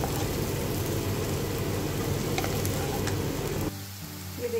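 Potatoes frying toward golden brown for jeera aloo, a dense, even sizzle like steady rain that holds close and constant, then drops away abruptly near the end.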